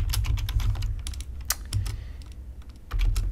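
Computer keyboard keys tapped in quick irregular clicks over a low steady hum, close and moderately loud, with no voices.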